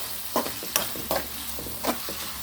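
A spatula scrapes and stirs onions in a frying pan, with a few sharp knocks over a soft, steady sizzle of frying.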